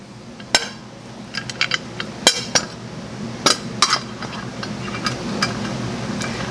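Metal parts clink sharply as an engine timing cover goes on a NASCAR Cup car #7 engine during its build, heard as a string of close, bright taps and chinks at irregular intervals over a low background hum.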